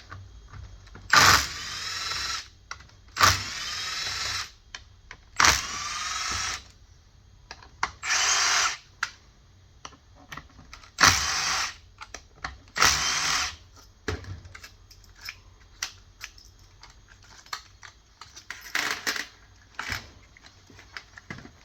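A power driver unscrews Torx T27 bolts from the transmission control unit of a BMW ZF6HP28X gearbox on a bench, in several short whirring bursts separated by pauses and light clicks.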